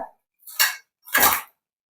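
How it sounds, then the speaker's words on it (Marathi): Crispy fried Russian chicken donuts are handled in two short, crunchy clattering bursts close by, with brief silence between them. "इथे छान असे आपले रशियन डोनेट तळून झालेले आहेत तुम्ही पाहू शकता आणि तुम्ही आवाज ऐकू शकता"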